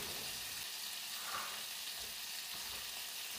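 Spanish veal meatballs fry in a pan, giving a steady, close hiss of sizzling oil that holds at an even level throughout with no talking.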